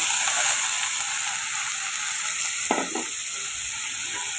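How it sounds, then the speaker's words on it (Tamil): Boiled beans frying in a pan, a constant bright sizzle with one brief scrape of a spoon midway, close and steady with no talking. "இப்போ இதில் நம்ம பீன்ஸை சேர்த்துக்கலாம்"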